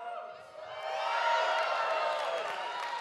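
A large conference audience at the Google Cloud Next '19 developer keynote in San Francisco cheers and whoops in a dense, sustained roar that swells after a brief dip and stays loud throughout.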